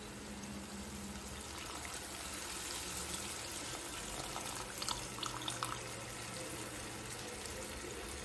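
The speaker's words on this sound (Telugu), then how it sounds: "ఇప్పుడు చింతపండు పులుసు వేసేస్తానండి." Soaked tamarind juice poured into a pot of taro root stew, a steady, soft liquid stream and trickle running throughout, close but fairly quiet, without talk.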